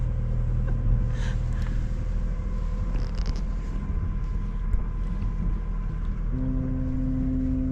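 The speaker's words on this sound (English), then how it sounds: "So as they're sort of coming into this narrow section, they're blowing their horns." Ship horns blow as vessels enter a narrow channel of the Seto Inland Sea, Japan, heard from a sailing boat in fog; long steady low tones sit under constant wind and engine rumble, with a louder sustained blast near the end.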